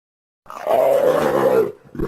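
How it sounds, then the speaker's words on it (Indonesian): A leopard roars once in a single loud, sustained, rough-toned burst lasting just over a second, followed by a short fainter grunt, with no talk. "Leopard."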